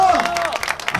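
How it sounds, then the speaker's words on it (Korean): A group at a Golden Bell quiz game applauds the winner, a short burst of close clapping from several people, with a voice trailing off just before it starts. "박수!"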